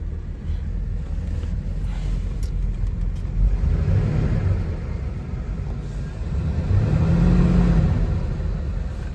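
A Corsair car engine in a warm start settling into idle, a low steady rumble close by with a short chatter early on and a swell near the end.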